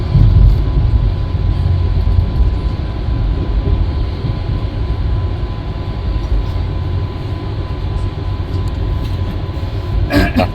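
Patna–Howrah Vande Bharat Express running at speed, a steady loud rumble of wheels on rail with a constant low hum, heard from inside the coach with no talking; a brief sharper rattle near the end.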